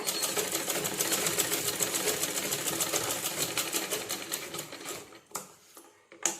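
A sewing machine runs a fast, even stitch along a sleeve seam, then stops and gives a few short bursts close up.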